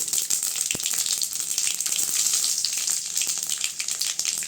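Mustard seeds and cumin sizzling in hot oil while cooking a bottle gourd kootu: a continuous crackling fry with sharp popping bursts scattered across it, close and moderately loud, with no talk.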